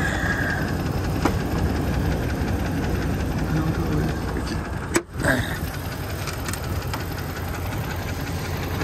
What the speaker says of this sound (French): C'est ça, le moteur claque pas